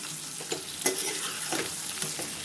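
Spices get stirred into a frying carrot, radish and chili pickle over a low flame: repeated scraping strokes of a spoon in the pan every half second or so over a steady, close sizzle.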